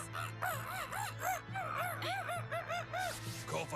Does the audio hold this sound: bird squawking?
yes